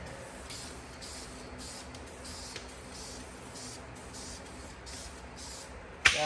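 Aerosol engine enamel is sprayed onto the engine case of a Firebird in repeated short hissing bursts, steady and close, with a brief click near the end.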